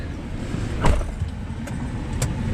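A heavily loaded pickup truck pulling a packed trailer rolls along the road, a steady rumble of engine and road noise with a brief louder swell partway through.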